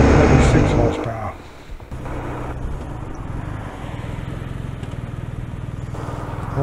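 A BMW R 1250 RT and a 60-horsepower Triumph T100 ride together on the way to a ferry in Surrey, their engines a low, continuous drone under a rider talking throughout.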